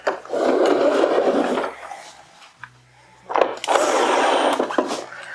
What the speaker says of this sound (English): We have our Bosch drill driver, and we're just gonna zip all these together.